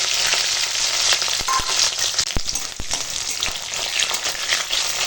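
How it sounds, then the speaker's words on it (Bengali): Garlic cloves, green chili and black cumin frying in oil, a close steady sizzle broken by several sharp pops and spatters in the middle. "রসুন কাঁচা লঙ্কা আর কালো জিরেটা একটু ভাজা হয়ে গেছে"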